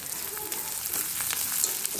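Onions with garlic cloves roast in a pan for a potato curry, giving a quiet, even sizzle with a few soft stirring scrapes and small pops.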